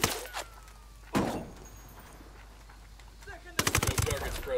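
Video-game gunfire in Ghost Recon Wildlands, where sniper shots come in. It starts with a sharp crack, then a loud report, then a fast volley of shots near the end. Brief speech is heard.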